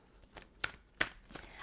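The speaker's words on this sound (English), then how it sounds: "Let's shuffle and pull the cards." Tarot cards are shuffled by hand in quick soft riffling bursts, close and quiet, with no voices.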